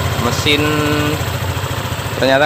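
Engine of a Honda PCX 150 scooter catching and settling into a steady close idle after a brake-switch wiring fault is bypassed, with a voice talking over the low running rumble.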